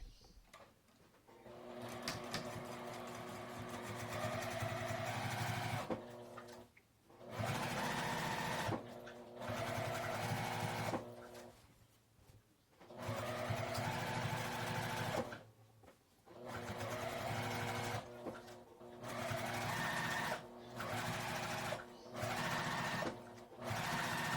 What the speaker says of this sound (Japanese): 折り返してこの布端を縫います。